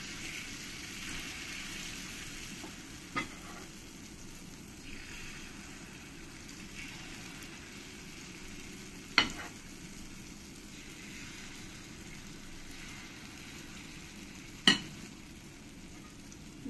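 Wheat-flour (atta) malpua batter fries in hot oil with a soft, steady, low sizzle, broken by a few sharp utensil clicks, and no voices.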